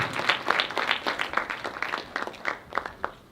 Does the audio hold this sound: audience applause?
yes